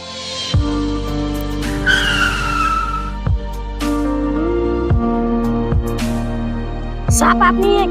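A motorbike skids with a sharp, wavering tire squeal, set against a bed of sustained tonal ringing and several sudden thumps spaced across the stretch, with no voices.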